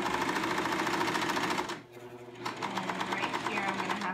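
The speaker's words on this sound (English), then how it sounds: "I'm using a nice three thread stitch, narrow." A sewing machine stitches a narrow three-thread seam in steady, rapid bursts. It briefly stops in the middle, then runs again close and loud. No one speaks.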